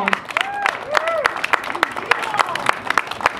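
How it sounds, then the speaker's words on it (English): A crowd applauds at the Barber Classics race event with scattered clapping and cheering, while chirping engine or tyre sounds sweep through the background. "Ladies and gentlemen, a big round of applause."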